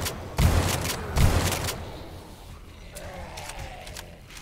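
A grenade goes off during a zombie horde night in the video game 7 Days To Die. Two loud, crackling bursts come early, followed by lower, rumbling game noise.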